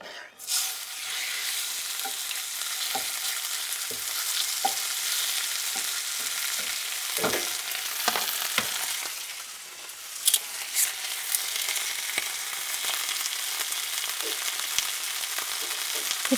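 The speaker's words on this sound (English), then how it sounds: "we're going to take our meat, and we have a hot pan here with a little bit of olive oil in it" Antelope steak sears in a hot pan with a little olive oil, a steady close broadband sizzle with scattered clicks and spatters and occasional utensil knocks, no voices.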